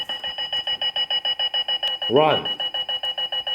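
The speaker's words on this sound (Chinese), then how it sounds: "闹钟会一直朝前跑" A running alarm clock beeps, a rapid, even train of loud electronic pulses that continues without pause while a voice briefly speaks over it near the middle.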